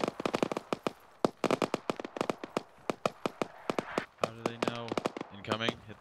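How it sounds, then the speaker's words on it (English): Sharp explosions and cracks rattle off in quick irregular succession during an Arma firefight under enemy mortar fire, some close and loud, with a voice speaking over the later blasts. "I think we're being counter-barraged, over."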